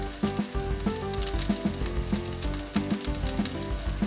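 White potato palya sizzles in a hot pan as it is mixed, with a continuous frying hiss marked by regular scraping stir strokes about twice a second.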